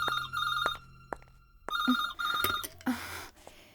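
A phone rings in repeated electronic bursts of trilling tones, loud and close, with gaps between rings and no talking over it.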